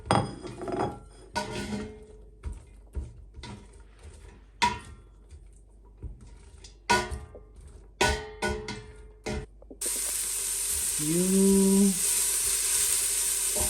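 A single onion goes into hot oil in a lentil-soup pot, sending up a sudden loud, steady sizzle after several sharp metallic clanks and clinks of cookware. A brief spoken word comes early.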